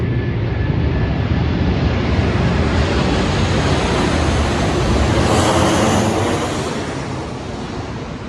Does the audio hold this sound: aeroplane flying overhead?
yes